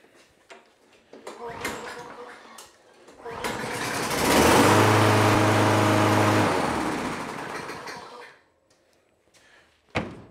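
A salvaged Toro Recycler lawn mower engine is pulled and catches, running loudly with a steady hum for about four seconds before it cuts out, with handling clatter before and after.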